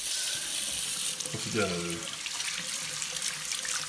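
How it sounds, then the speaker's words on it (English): Cold water gushes steadily from a tap over epoxy resin on skin, a continuous close hiss and splash with people speaking briefly over it. "Let's see what happens under cold water."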